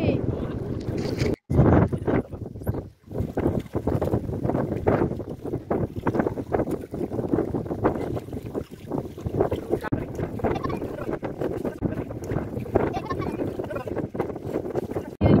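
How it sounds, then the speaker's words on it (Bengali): Strong wind roars and buffets against the microphone while a boat is rowed through rough, wavy water on a rural monsoon trip, a loud, continuous rushing that never lets up. "প্রচুর বাতাস আছে, আপনারা শব্দ শুনতে পাচ্ছেন আশা করি।"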